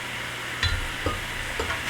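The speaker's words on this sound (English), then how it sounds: "Break up those onions a little bit and continue to break up that meat" Cooked ground meat, onions, corn and beans being stirred in a pan, with a few soft scraping and clinking strokes of the utensil against the pan over a faint steady sizzle, no talking.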